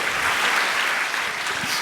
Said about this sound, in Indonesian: tepuk tangan sekali lagi untuk Alfi.